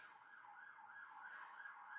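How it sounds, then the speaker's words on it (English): A police car siren passes outside an open window in summer, its wailing tone rising and falling repeatedly, faint and distant-sounding, with no talk over it. "there's a police car going by"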